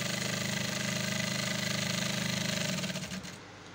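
A sewing machine stitching a bomber jacket sleeve out from the elbow, a steady rapid mechanical whirr with a fast even pulse. It runs continuously, then slows and stops near the end.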